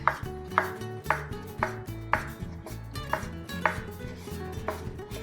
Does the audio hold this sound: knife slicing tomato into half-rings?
yes